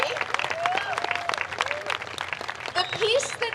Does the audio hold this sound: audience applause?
yes